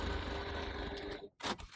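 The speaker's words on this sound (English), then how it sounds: "we're just going to top stitch 3 millimeters, 1/8 of an inch from the seam on the base side" Sewing machine top stitching the base seam of a crossbody bag at a 3.0 stitch length, a dense whirring run of about a second and a quarter, a brief stop, then a short second burst, close and fairly quiet.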